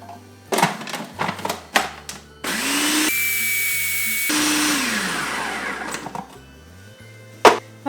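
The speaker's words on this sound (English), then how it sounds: "And we're going to blend it." Gluten-free oats whir in a blender, first through a few short clattering pulses, then a sustained loud grinding run of about four seconds, followed by more brief bursts and knocks.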